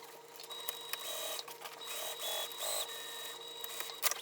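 A sewing machine stitching fabric pieces for an organizer box, a steady mechanical whirring with a faint high whine, running in bursts with brief pauses and small clicks, close and without talk.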